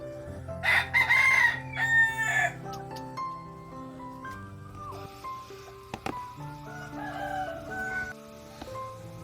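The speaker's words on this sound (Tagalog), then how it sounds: "Tugdo na ng manok." A rooster crows at a Filipino backyard flock, the loud near calls rising early in the clip, followed by clucks and other chicken sounds with no one talking.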